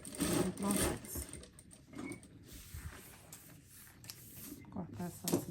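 A sewing machine backstitching while sewing a bag gives short bursts of rapid mechanical whirring and clatter in quick stops and starts, moderately near, with a voice speaking between the bursts.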